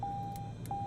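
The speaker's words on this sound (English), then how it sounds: "I don't want to hear beeping." A steady electronic alert tone in a flight simulator game cockpit beeps twice in quick succession, a clear sustained pitch broken by a short gap, over a low background hum.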